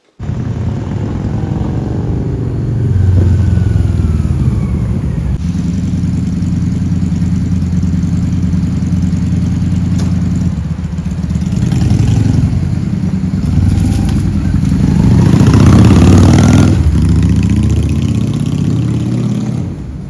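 A nearly 30-year-old motorcycle, once sold in only one country, idles steadily up close with a low rumbling beat, then rises briefly in a couple of light revs and settles back to idle.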